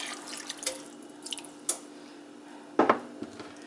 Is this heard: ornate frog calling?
no